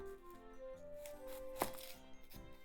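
A knife slices the top off an onion with a single sharp, crisp cut midway through, set against soft, steady background music.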